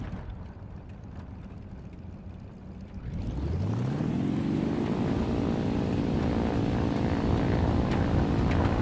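A propeller-driven plane in the War Thunder video game spools up and accelerates along a runway, its engine rising from a low idle into a loud, steady roar with a climbing pitch.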